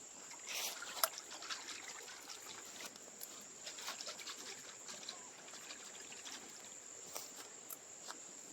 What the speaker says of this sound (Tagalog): Ang atong uyugon mga kabukid, madunggan kini siya nga tubig